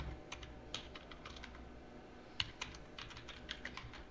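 Typing a folder name for an e-commerce website project on a computer keyboard: a steady run of light, quick key clicks with a few sharper taps, close up and fairly quiet, with no talking.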